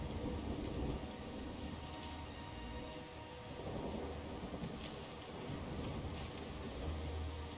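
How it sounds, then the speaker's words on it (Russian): Steady rain pours in a black-and-white zone of the video game The Saboteur, a continuous dense hiss of drops with low rumbling like distant thunder, moderately quiet and unbroken with no voices. "когда мы входим в черно-белую зону, чуть ли не постоянно идет дождь"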